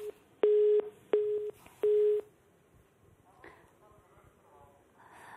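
Three long steady beeps of a telephone busy signal sound on a line that has just dropped, each tone cut off sharply with short gaps between, followed by faint low noise.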